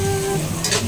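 Pork innards tossed with black pepper in a hot pan, a steady close sizzle and frying hiss with a brief scrape of stirring near the end.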